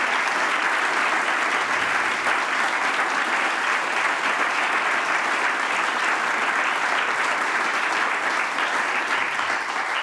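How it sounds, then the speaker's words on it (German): Dense, steady applause from an audience at an award ceremony, continuous clapping filling the hall without pause. "jetzt nochmal einen gesonderten, dollen Applaus"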